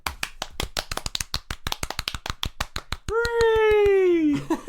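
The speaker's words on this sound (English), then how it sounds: "Insert 1990s Microsoft PowerPoint applause" A stand-in for the 1990s Microsoft PowerPoint applause effect: a rapid, even run of sharp claps for about three seconds, then a loud sustained voice-like tone that slowly falls in pitch.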